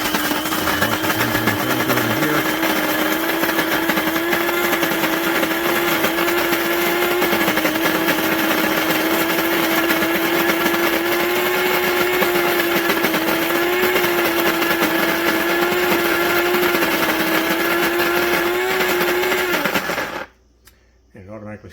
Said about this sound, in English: you just press the power button here. And let the grinder do the rest.